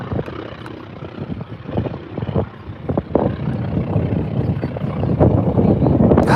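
A vintage aircraft engine runs at an air show open cockpit day, a loud rumbling drone buffeted by wind, with uneven bursts and swells throughout and no voices.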